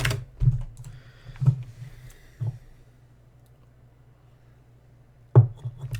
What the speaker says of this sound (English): Hopefully the keyboard's not too loud in the mic.